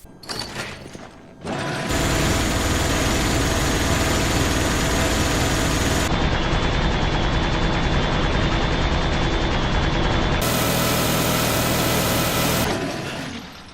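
Sustained mechanical roar of a Gatling gun spinning and firing continuously in Resident Evil 5, loud and dense for about eleven seconds, its tone shifting midway before a brief quieter lead-in and tail.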